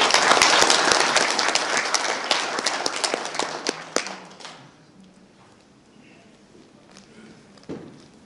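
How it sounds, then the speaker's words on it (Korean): Audience applause welcoming a clan association chairman to the podium at a memorial ceremony for independence activist Kim Dong-sam, with loud, dense clapping for about four seconds that fades to a few scattered claps and room quiet. "박수로 맞이해 주십시오."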